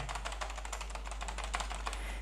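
Rapid, close keyboard typing on a keyboard plugged into a ZTEC ZD622 docking station, a dense run of sharp key clicks and taps over a steady low hum, with no talking.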